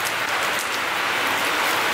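Heavy rain pouring down in a city, a dense continuous hiss of drops pattering on surfaces, steady and fairly close.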